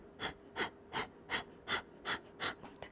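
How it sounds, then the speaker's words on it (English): Rapid, forceful breath pumps exhaled through the nose during yoga practice: eight short, evenly spaced puffs about three per second, close and clear, with no talk. "So keep going, exhaling through the nose."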